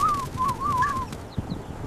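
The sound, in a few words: pigeon cooing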